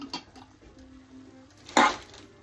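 A spoon scrapes leftover spaghetti sauce from a pan, with a few soft taps followed by one sharp metallic clatter, close and clear with no talk.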